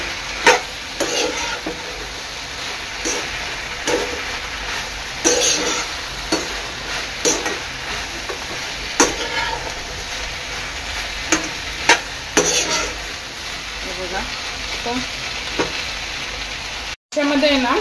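Fried soybeans for soybean chilli are tossed and stirred in a hot pan, steady sizzling broken by frequent scraping and knocking of a spatula at irregular intervals, close and loud, ending with a brief cut.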